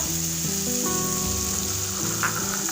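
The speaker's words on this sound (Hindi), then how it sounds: "यहाँ पर हमें मसाला अच्छी तरह भूनना है।" Spice masala frying in a pan for a fish curry, a steady close sizzle and soft crackle that runs continuously under sustained background tones, with no talking.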